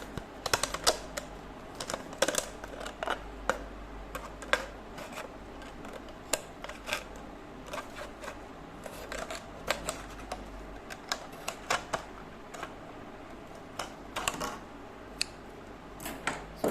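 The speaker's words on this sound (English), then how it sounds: "now the remaining part I can cut it with the scissor" Scissors snip through an orchid keiki, giving a long run of sharp, irregular clicks and crisp cuts with faint rustle between them, close and fairly quiet with no talking.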